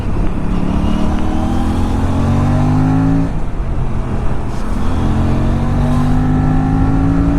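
An RS457 motorcycle accelerating hard on the road: a loud, rising engine whine that drops briefly at a gear change, then climbs again, with wind noise throughout.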